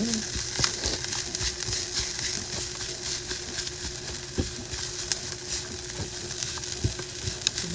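Sage leaves fry and crisp in a hot pan with a steady, close sizzle and scattered small pops, heard alone without talking.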